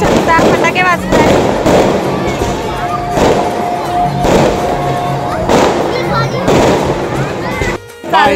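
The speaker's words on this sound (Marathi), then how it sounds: "फटाके वाजतात" Firecrackers burst in repeated sharp volleys at a village palanquin festival (palkhi utsav and fair in Bonkode), loud and close, with crowd noise and voices talking throughout.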